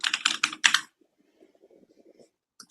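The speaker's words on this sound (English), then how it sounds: "We can hear some keyboard clacking." A computer keyboard clacks on a remote participant's end of an online meeting: a close burst of rapid keystrokes, then scattered softer taps, and a final couple of clicks.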